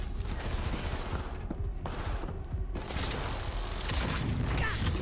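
Rapid gunfire bursts from the video game Cyberpunk 2077, a dense continuous clatter of shots with a noisy, cluttered game mix and no clear gaps.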